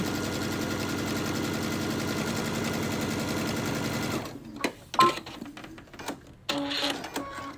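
A Brother sewing machine with a bi-level foot top stitches a fabric strap in a fast, continuous rattling run that stops abruptly, followed by a few handling clicks and thumps.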